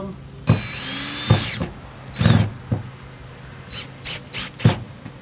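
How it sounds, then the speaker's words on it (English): A power drill drives screws while solar panels are mounted on the roof of a Dodge ProMaster camper van, sounding in several short whirring bursts of varying length with pauses between, outdoors with a crow calling. "now we have this drill bit, and we're gonna put"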